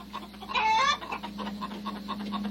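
A chicken clucks in a steady series of short, moderately loud clucks, with one longer squawk early on and a constant low hum beneath.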